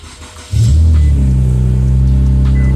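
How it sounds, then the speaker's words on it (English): A 2017 Infiniti Q60 with an intermittent no-start fault cranks briefly, then fires and settles into a loud, steady idle rumble, heard close with no talking. "we'll go ahead and crank it"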